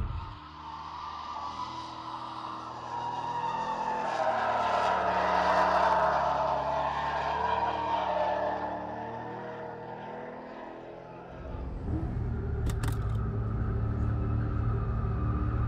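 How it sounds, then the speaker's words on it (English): Hybrid gas engine of an all-wheel-drive Corvette starting automatically while the car accelerates toward 45 mph. A rising drive rumble swells and fades, then a deeper engine roar kicks in abruptly near the end, close inside the car. "So this will activate when we get up to 45 miles an hour. Okay. Engine will automatically start up."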